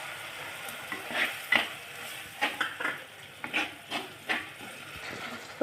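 A spoon stirs thick kingfish mappas gravy in a pan, with a series of soft scraping strokes and gentle sizzling, close and fairly quiet.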